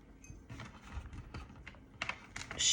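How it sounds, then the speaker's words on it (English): A cat walks across a computer keyboard, the keys clicking and clattering in irregular bursts, near and fairly faint, with a louder cluster of presses toward the end. "She's wanting to walk on the keyboard again"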